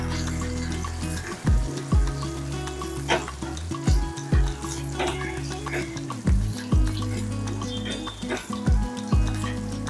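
Curry leaves spit and crackle in hot oil for a spiced rice dish, a dense close sizzle broken by repeated sharp pops and spatter bursts every second or so, under a low steady hum.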